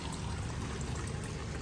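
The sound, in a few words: water being poured to refill a crab farm box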